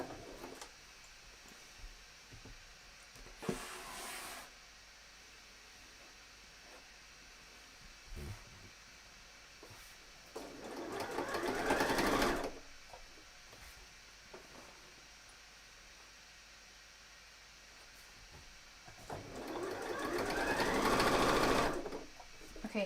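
Domestic sewing machine stitching a bomber jacket and stalling at a chunky seam: three short bursts of whirring stitching, the last two longer and louder, with quiet pauses between them.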